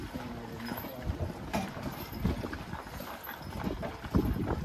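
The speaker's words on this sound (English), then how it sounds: "View of Rosenfeld on the horse wagon ride, heading west on Henry" Steady clip-clop of a double team of black Percheron horses drawing a wagon along a town street in winter, the hoofbeats close and rhythmic over a rolling background rumble.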